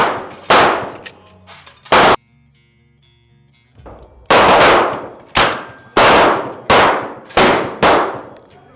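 A BinTac S45 Carbon Fat Boy semi-auto big bore airgun fires about eight loud, sharp close shots. Two come early, then after a quiet gap the rest follow in a fairly quick irregular string, each with a short decaying ring.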